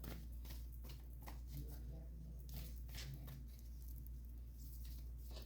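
Tarot cards are shuffled in soft, rapid riffles and pats, repeated in quick bursts over a steady low hum, fairly faint and close.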